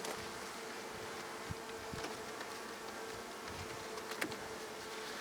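Honeybees buzzing during a beehive inspection, a steady, close hum of many insects with a few passing individual buzzes and faint light knocks, and no talk.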